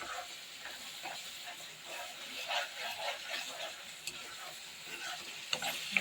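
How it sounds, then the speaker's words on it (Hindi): A ladle stirs sugar into capsicum halwa in a pan, giving a soft, continuous scraping swish over a faint sizzle, close and quiet with a few small clinks near the end and no talk. "चीनी घुलने तक हम इसी तरह चमचे को चलाते रहेंगे."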